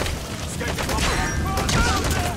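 Rapid bursts of gunfire from the Metal Gear Solid V video game on PS4 crackle steadily through a dense, busy battle soundscape, loud and continuous over the whole stretch.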